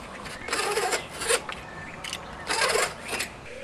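A blade rasps and scrapes through a thick rubber mulch mat in two rough strokes, a gritty cutting sound close by, with brief pauses between.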